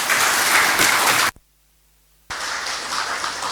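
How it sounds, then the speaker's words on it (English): Audience at the swearing-in of the Ghana Armed Forces Council applauding after the President's speech: loud, dense clapping that cuts out abruptly for about a second of silence, then resumes just as strongly. "Another round of applause, please."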